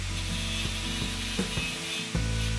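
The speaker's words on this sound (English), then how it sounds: "I will sand off the paint from this side" Sandpaper rubs paint off a small painted part for a golden egg diorama, a steady close scratchy friction with a few soft knocks as the strokes shift.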